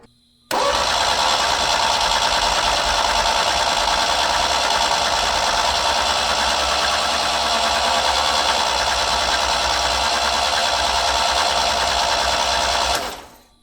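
A Beretta Z26 with a Quad 4 engine and a five-speed runs steadily at close range. A loud, even, buzzing drone kicks in abruptly and holds for about thirteen seconds before cutting off, with no voices over it.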